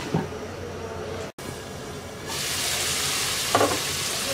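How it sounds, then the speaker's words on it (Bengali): Potatoes and tomatoes sizzle over low heat in a pan, a steady close frying hiss that swells louder partway through, with a brief scrape of stirring and a momentary cutoff early on. "আলু আর টমেটোটাকে 2 মিনিট অল্প আঁচে কষিয়ে নেব।"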